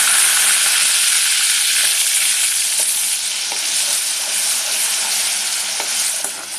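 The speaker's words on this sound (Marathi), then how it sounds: "पहिला आपण ही पेस्ट बनवली आहे ती घालूया।" Onion paste hits about three spoons of hot oil and sizzles steadily, a dense, even frying hiss that holds for several seconds with no voices.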